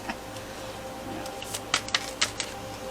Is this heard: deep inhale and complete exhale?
no